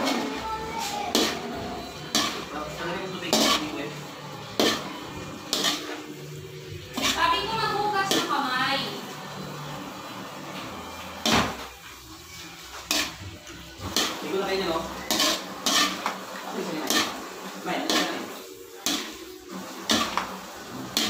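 Fresh miki noodles are stirred in a pan over reduced heat, with repeated close scraping and clinking of a utensil against the pan in irregular strokes, while a person talks throughout.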